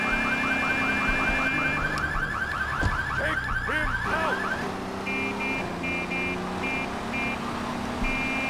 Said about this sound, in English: the minivan has an alarm on it.